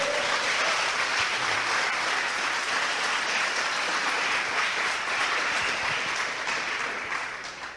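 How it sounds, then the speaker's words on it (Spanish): Dense, steady applause from a church congregation offered to the Lord during a Spanish-language sermon, a loud continuous wash of many hands that fades slightly at the end. "Dale una ofrenda de aplausos al Señor"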